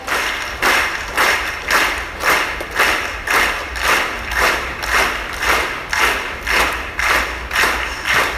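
A church congregation claps quickly in a steady, even rhythm, with loud, full-room beats repeating about twice a second and no voices on top.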